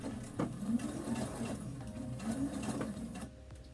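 A sewing machine runs a straight stitch around the final corner of a piece, a steady close mechanical whir with rapid needle clatter that stops abruptly near the end.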